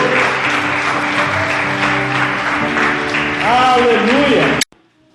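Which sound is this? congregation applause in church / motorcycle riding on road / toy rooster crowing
congregation applause in church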